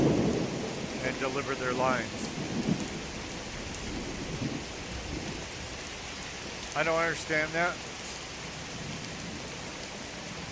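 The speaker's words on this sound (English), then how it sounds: "the thunder is so loud you can't hear people talk" Loud thunder rumbles and steady rain roar inside a rock cave in Skyrim, a continuous heavy storm wash that masks voices; character dialogue is spoken faintly over it in two short bursts.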